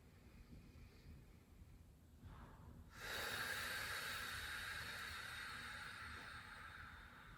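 Slow, deep breaths during a low-back-friendly beginner yoga stretch, soft airy inhales then a louder, longer exhale, close and alone.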